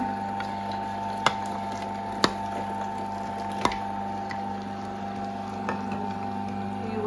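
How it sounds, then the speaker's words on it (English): A meat mincer grinding venison runs with a steady motor hum and whine, broken by a few sharp clicks or knocks from the machine. "Whack that mincer on."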